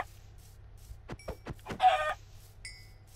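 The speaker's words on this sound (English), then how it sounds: "Chickens are back." Chickens in the video game Minecraft on PS4 cluck in a few short, sharp bursts, followed by a louder buzzy squawk and a faint electronic tone, over a low steady background hum.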